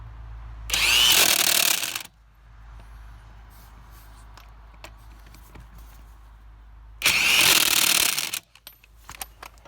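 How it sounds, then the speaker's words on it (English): An impact wrench fitted with a 65 pound torque stick tightens hand-threaded lug nuts in two loud, sustained bursts about a second long, separated by a quieter stretch of faint shop noise. "this time we're going to try the 65 pound torque stick"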